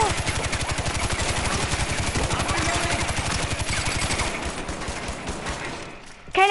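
Rapid automatic gunfire in the video game Far Cry 4, a long unbroken rhythmic burst of evenly spaced shots, loud and close, trailing off near the end before a voice speaks.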